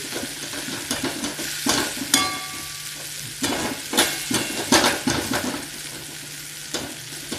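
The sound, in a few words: grated sweet potato being sautéed in ghee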